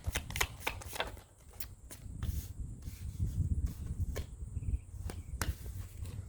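Cards are shuffled repeatedly up close, a run of quick riffling snaps and papery rubbing that continues in bursts throughout.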